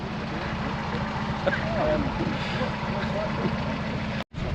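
A Mazda MX-5 at a cars-and-coffee meet in Jedburgh idling roughly, a steady low engine drone with uneven pulses, heard under outdoor noise with a brief dropout near the end.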